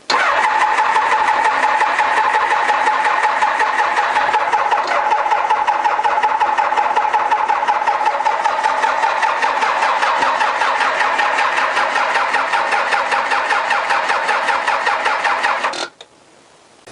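A car engine cranks and starts at the press of a starter button, then runs loud and steady at close range for about fifteen seconds before cutting off abruptly, with no talk.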